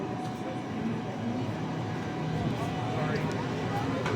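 A 6-car B-series train moves through Bayswater station on the Ellenbrook line toward the siding, a steady low rumble and rail hum with faint squeals, a voice speaking over it.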